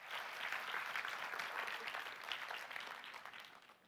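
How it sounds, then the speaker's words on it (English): A conference audience claps in steady, dense applause that holds at an even level throughout and then fades slightly toward the end, with no voices over it. "Very big applause, please, for Emilia Barakova."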